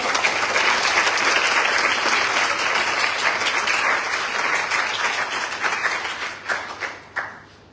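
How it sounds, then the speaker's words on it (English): An audience at a secondary-school debating competition applauds the debaters with sustained, full clapping that thins to scattered individual claps and fades out toward the end. "give them another round of applause"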